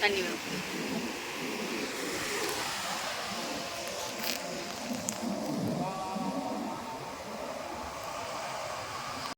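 Sea waves wash in on an evening beach as a steady broadband rush with gentle surges, wind noise on the microphone mixed in.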